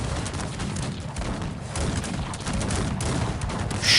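Musket volleys fire in the strategy video game Cossacks 3 during a French campaign battle against Djidjelli, a dense crackle of overlapping shots rolling on continuously with a sharper burst at the end.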